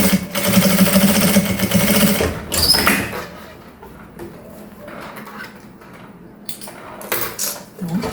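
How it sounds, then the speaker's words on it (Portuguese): A sewing machine stitches a seam on a fabric travel pouch, making a close, rapid mechanical whirr and clatter for about two seconds, followed by quieter handling clicks and rustles with no voice. "agora eu vou passar uma costura aqui. Faz um retrocesso. Vem costurando até o final."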